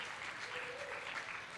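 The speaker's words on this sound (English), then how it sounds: "Round of applause for Talkery." Audience applause for a startup pitch at a Spotlight session of the How to Web Conference 2023, an even wash of clapping held for a moment at moderate distance.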